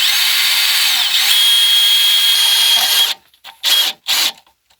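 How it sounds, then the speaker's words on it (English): Power drill boring a small hole near an electrical junction box: a loud steady whine for about three seconds, then three short bursts of the motor spinning up and stopping. "So I'm going to go ahead and drill a small hole."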